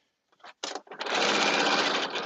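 A sewing machine stitches the facing of a caftan, starting with a few short bursts before settling into a steady, loud run of continuous stitching close by.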